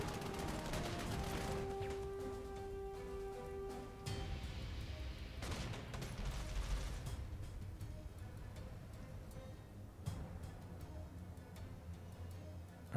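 Artillery bombardment in the World War II strategy game Panzer Corps 2 during the drive on Moscow: a cluster of gunfire and blasts fires at the start, followed by scattered booms and rumbling impacts at moderate distance with no talk.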